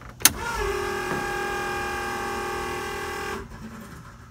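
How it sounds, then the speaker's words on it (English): The race fuel pump on a drag car primes with a click, then a loud, steady electric whine held for about three seconds before it cuts off abruptly, close by with no voices. "let's switch it back over to race pump. This is the difference in how loud these pumps are."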